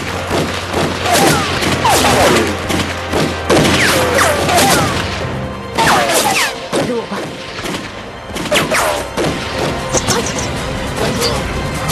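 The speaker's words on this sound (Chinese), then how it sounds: "开枪！" Soldiers' rifles fire in a wartime kung fu film battle, a loud, rapid fusillade of overlapping shots and cracks with thuds and crashes mixed in, sustained throughout with brief shouted voices.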